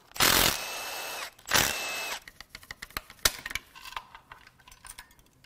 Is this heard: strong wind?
no